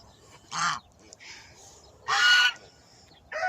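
A male Guinea goose calls out in three loud, nasal honks spaced across a few seconds, close by, with quiet stretches between them and no talk.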